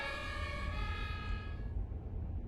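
An emergency vehicle's wailing siren rings out over low road rumble, moderately faint, then cuts away abruptly, leaving only the traffic hum.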